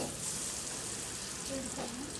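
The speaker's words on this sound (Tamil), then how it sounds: "எண்ணெயை விட்டுக்கலாம் கடாயில். லெக் பீஸ் எடுத்து போட்டுருவோம்." Chicken leg pieces frying in oil in a kadai, giving a steady broadband sizzle that stays fairly even throughout, with a faint clink or stir sound near the end.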